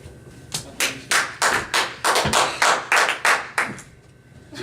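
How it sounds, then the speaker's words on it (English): A single person claps their hands about nine times in a steady rhythm. The claps are loud and close, with no talking. "Did you just clap for yourself?"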